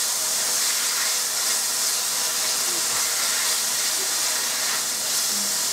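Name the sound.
shredded bacon frying in a pot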